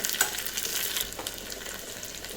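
Two dried red chillies sizzling with browned onion in a pan, a soft, close crackle with a few scraping stirs, quiet and steady with no voices.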